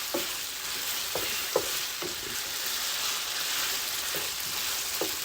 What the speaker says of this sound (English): We're going to add our ginger.